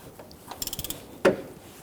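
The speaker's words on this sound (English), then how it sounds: "we're going to go ahead and tighten down that bolt" A ratchet tightening a transmission mount bolt on a 2011-2015 Kia Sorento 2.4L: a quick run of about eight close clicks, then a single sharp knock.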